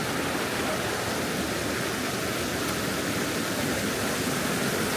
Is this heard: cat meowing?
no